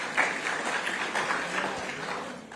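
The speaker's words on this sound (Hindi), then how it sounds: "जोरदार तालियां एक बार।" Audience applause at an education conclave, a brief, fairly faint burst of clapping from the crowd that holds steady for a couple of seconds before tapering slightly.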